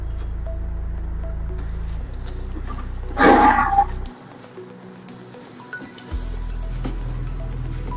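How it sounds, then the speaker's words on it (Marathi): Potato dough for bread balls, made with flour as a binder and fresh coriander and no added water, being kneaded by hand: a single wet, squelchy burst of about a second over a steady low background hum. "यांना पाणी न टाकता"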